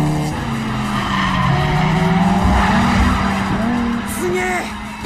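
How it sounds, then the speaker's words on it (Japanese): Race cars in an animated mountain-pass street race skid through a parallel drift, with loud continuous tire squeal and engine drone sweeping throughout, rising and falling pitch streaks over a steady roar. "すげえパラレルドリフトだ。"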